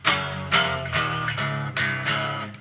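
An electric guitar plays the first part of the bridge of a song: loud, close, distorted chord strums in a steady pulse, with sharp attacks about every half second.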